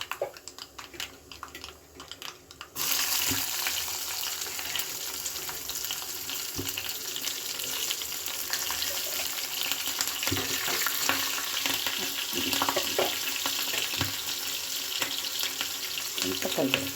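Chana dal frying in hot oil in a pan while making pomegranate curd rice, a steady close sizzle that starts abruptly after a few seconds and crackles continuously, with occasional small stirring clinks.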